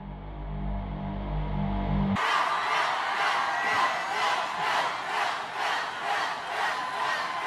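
A large crowd chants a man's name in a loud, rhythmic, repeated pulse, steady and sustained after a brief musical opening.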